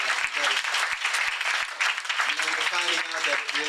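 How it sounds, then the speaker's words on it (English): Loud, dense audience applause at a ball fills the room, continuous throughout, with a few sharp low thumps early on and a voice talking over the clapping toward the end. "You should give yourself a big round of applause"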